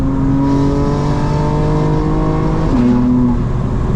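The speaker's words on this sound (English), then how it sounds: "With the burbles off, guys, it sounds so clean." A modified 2024 BMW M4 Competition engine revs smoothly and loudly with exhaust burbles switched off, holding a steady clean drone before dipping and rising again, with no popping or crackling.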